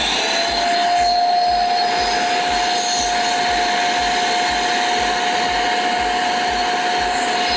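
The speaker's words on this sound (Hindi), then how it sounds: "सो अभी ये वैक्यूम क्लीनर का होज ले लिया मैंने" Vacuum cleaner hose sucking dust from a choked Qubo Q500 air purifier filter, a loud, steady motor whine with a constant high tone and a rhythmic low fluttering as the hose passes over the filter, close up.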